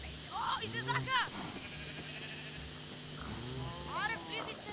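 Minecraft goats bleating in a small farm pen, several wavering bleats in two bursts against a steady background hum, with people talking quietly in between.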